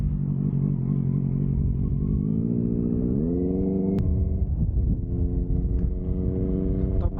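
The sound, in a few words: motorcycle riding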